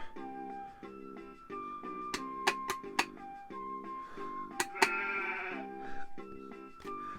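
Cartoonish sheep bleats from a vintage Sesame Street Big Bird video game repeat over a looping chiptune melody, with sharp electronic blips and a short synthesized burst in the middle.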